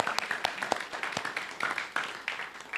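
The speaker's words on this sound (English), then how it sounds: "Can we get applause for all of our volunteers at CSL?" Scattered audience applause for volunteers at CSL Tacoma, a crowd of hands clapping at moderate distance, fairly soft and uneven, with some individual claps standing out over the steady patter.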